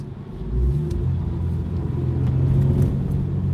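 Light Acura Integra making about 250 horsepower with Type R cams, its engine pulling hard under acceleration as a deep steady rumble that climbs slightly, heard from inside the car with no talking.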